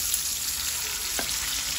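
Garlic and onion sauté in a hot pan for liver steak, a steady close sizzle and frying hiss with a brief stirring scrape partway through.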